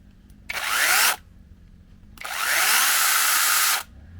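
A DeWalt cordless mini chainsaw is switched on twice, with a short whirring burst followed by a longer one. Each burst spins up sharply and cuts off, and both are loud and close in an otherwise quiet space.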